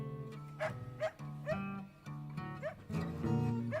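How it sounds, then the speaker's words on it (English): A hound howls and whimpers along with piano and music in a song, a series of rising, wavering canine cries repeated every half second or so, clear and close in the mix. "Seamus, that's the dog who's outside."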